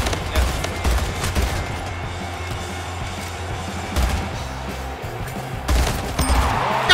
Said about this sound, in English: Oh! This is a battle rifle.